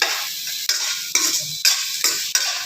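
A spoon scrapes and stirs a mashed potato mixture for potato bonda in a bowl or pan, five or six regular strokes in a steady rhythm, close and fairly loud.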